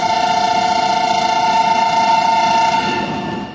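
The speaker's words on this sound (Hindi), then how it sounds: "हमारी ट्रेन इस वक्त निकल रही है मुल्तान कैंट रेलवे स्टेशन से" The Shah Hussain Express sounds a long, steady, loud horn while departing Multan Cantt railway station in Pakistan, with engine rumble beneath that holds until the horn fades near the end.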